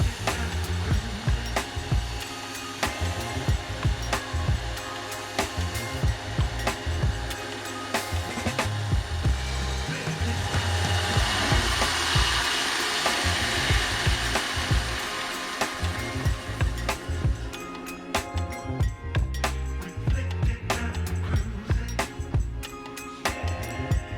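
Belt grinder running a 600 grit belt to profile the edge of a cheap flea-market axe head, a loud continuous motor whir and grinding rasp that goes on steadily throughout, heard close with no talking.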